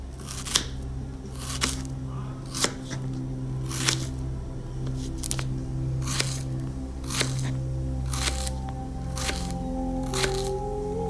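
A knife chops through raw plantain for fry in a home kitchen, giving a steady series of sharp, crisp cuts about once a second, with low background hum.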